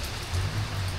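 Steady rain pours at a waterfall resort in the Philippines, a dense, close hiss of falling water with a low rumble underneath, continuous and fairly loud.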